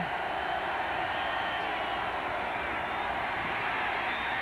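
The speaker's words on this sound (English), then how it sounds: "Crowd's too loud for the shotgun on that play" Steady stadium crowd roar at the 1989 Bears at Buccaneers NFL football game in Tampa Bay, a continuous, even wash of distant noise with no breaks.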